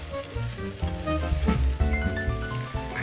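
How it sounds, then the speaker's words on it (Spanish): Chicken tossed into a sizzling Spanish sofrito for beer-braised chicken, with a loud continuous frying hiss and some low tonal sound beneath, steady throughout with no talking. "vamos a darle unas vueltas con el sofrito"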